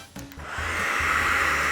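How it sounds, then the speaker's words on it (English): A handheld hairdryer starting up after a brief click, then blowing air in a steady, loud whirring rush with a low motor hum underneath. "If you've ever used a hairdryer like this one, you've probably felt this pressure force if you pointed the dryer directly at your hair."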